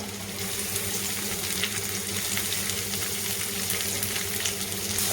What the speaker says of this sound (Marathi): कांदा पण असा छान परतून घ्यायचा.